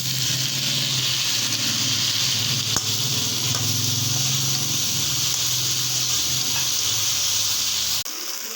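Chopped tomato frying in a pan for dry fish gravy, a loud, steady hiss of sizzling oil that runs close and continuous, dropping off sharply near the end.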